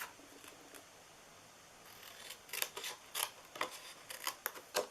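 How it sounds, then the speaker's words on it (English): Scissors snipping through paper to cut squares for a Christmas treat box, quiet and close, first a stretch of near silence and then a series of short, irregular snips over a few seconds. "I'm just going to go ahead and cut these 4 right here off."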